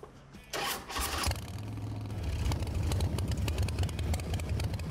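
A custom motorcycle engine cranks and catches, then settles into a steady, rumbling idle that stays loud and close for the rest of the clip.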